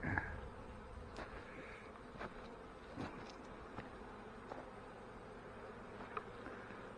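Honey bees buzz around small hive boxes in a fireweed area, a steady faint hum with occasional louder passes close by and no talking.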